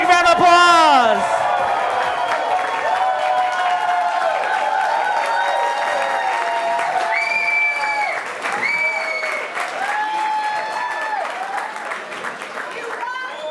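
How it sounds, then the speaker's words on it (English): Wedding guests at a Tranquility Farm reception in Leesburg, Virginia give a big round of applause: loud, continuous crowd clapping with whoops and cheers, and voices and tonal sounds running through it. "Give a big round of applause."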